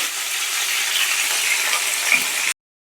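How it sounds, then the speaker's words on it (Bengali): Pointed gourd (potol) pieces frying in hot oil in a pan, a loud, dense, even sizzle heard close up without talk, holding steady for about two and a half seconds before cutting off abruptly. "পটলগুলোকে দিয়ে খুব লাল লাল করে ভালো করে কিন্তু ভাজতে হবে।"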